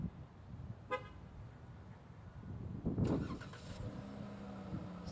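A Dodge Charger SXT Plus all-wheel drive with a 3.6-liter 24-valve V6 is started remotely, a short chirp followed by the engine cranking and catching into a steady low idle.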